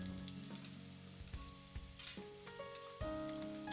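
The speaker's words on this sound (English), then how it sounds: "I deep fry them for 5 minutes to brown them." Taro deep frying in oil at medium-high heat, a quiet steady sizzle with crackling pops and bubbling, no voices.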